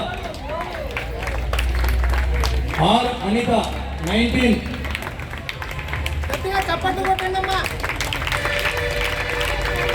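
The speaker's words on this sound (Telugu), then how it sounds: "గట్టిగా చప్పట్లు" Clapping from a crowd at a Rotary Club prize ceremony for a Sankranti rangoli contest, with scattered claps and murmuring running under an announcer reading out a name and number over a loudspeaker.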